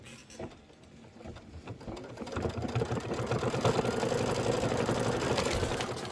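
A Kimberbell embroidery sewing machine stitches out a candy cane lane bench pillow design, its motor starting softly and then building into a steady, rapid mechanical chatter that runs on alone.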